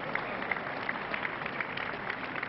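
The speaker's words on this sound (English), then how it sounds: "Hold your applause down." Tennis crowd at the 1998 US Open fourth-round match between Rafter and Ivanisevic applauding steadily, a dense even patter of clapping with scattered sharper claps throughout.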